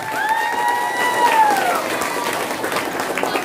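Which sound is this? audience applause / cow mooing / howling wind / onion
audience applause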